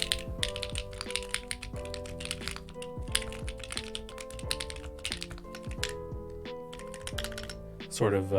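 Typing on an Alix40 mechanical keyboard, with rapid clacky keystrokes in irregular bursts close to the microphone, over a soft background tone with a brief sweep at the end.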